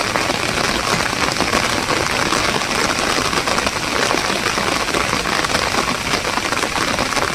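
Torrential rain falling at an outdoor fishing spot, a constant, loud wash of drops hammering surfaces without pause, unbroken by any talking.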